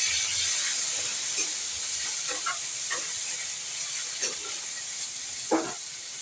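Ginger-garlic paste frying in a hot pan for a potato dish gives a steady, fairly loud hiss and sizzle throughout, with a few soft scraping stirs breaking through near the end.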